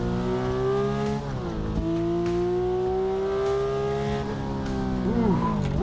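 Car engine in a driving video game played with force feedback: a steady, loud droning engine hum with shifting pitch as it accelerates and changes gears, continuous throughout.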